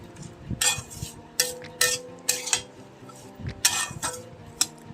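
Mango pickle being stirred with a spoon in a pan, giving repeated sharp metal clinks and scrapes at an uneven rhythm over low kitchen background hum, close and fairly clear.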